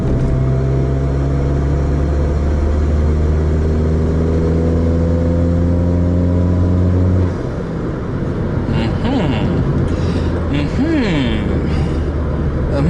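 A Toyota Etios RSi Phase 2 accelerates hard in fifth gear, its engine droning loud and steady with a rising tone throughout, joined by wind and road roar that grows in the later part.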